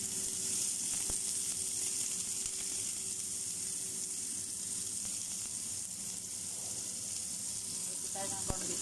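Garlic and onion sauté in a pan as the start of corned beef with potatoes, giving a steady, close sizzle throughout with a few faint utensil clicks.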